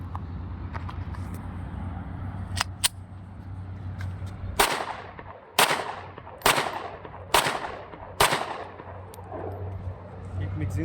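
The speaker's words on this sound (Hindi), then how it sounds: "एक मैगजीन से हमने टेस्ट फायर कर दिया" Glock 26 9mm pistol test-fired from one magazine: a few scattered sharp reports, then five loud evenly spaced shots in quick succession over a steady low background hum.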